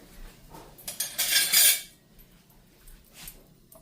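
A fork flips hot honey-roasted carrots on a metal pan just out of the oven, making a burst of clinking and scraping that rises, holds for about a second, then fades, followed by faint taps.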